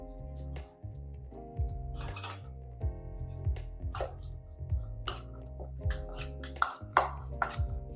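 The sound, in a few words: mixing tofu with seasonings in a bowl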